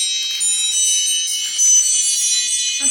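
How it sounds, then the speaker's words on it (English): An oven timer alarm rings steadily and loudly on its own, a continuous high electronic tone sounding while muesli bakes in a home kitchen. "That's my alarm for my muesli that I'm making in the oven."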